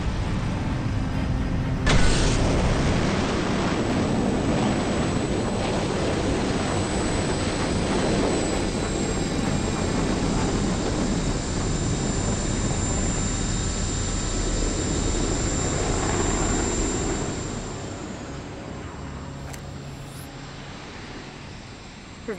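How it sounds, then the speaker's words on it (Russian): A shuttle lifts off in the Farpoint VR video game, a loud sustained engine roar that swells near the start and holds steady for a long stretch before easing off toward the end. "Поехали. Мы взлетаем."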